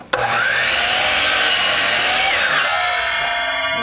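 A DeWalt power saw cuts through a marked wooden board: a sharp start, then a loud, close, continuous roaring whine of blade through wood that lasts to the end.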